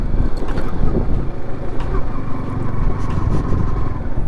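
Yamaha R15 V4 sport motorcycle riding up to a large monastery in Spiti valley, its engine a steady loud drone under heavy wind buffeting the microphone throughout.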